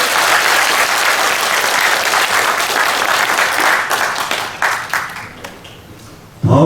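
An audience at a civic rally held to support building the Chuncheon battle peace culture memorial hall applauds loudly and steadily, the clapping fading toward the end before a short louder burst.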